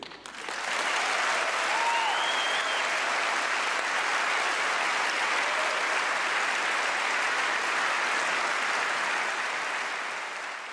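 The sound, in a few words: audience applause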